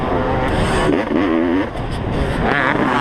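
A 32-year-old Honda CR500 two-stroke dirt bike races through deep ruts on a hillside motocross track at Foxhills, its engine revving loud and close with rising and falling pitch as a commentator talks over it.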